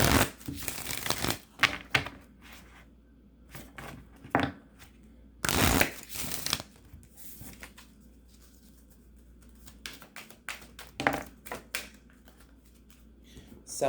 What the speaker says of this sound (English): Let me shuffle them another way.